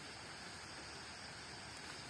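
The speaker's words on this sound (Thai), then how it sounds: "ฝนตกพี่น้องเอ้ย" Steady rain falls in a forest, a soft unbroken hiss heard on its own at low level, with no voices.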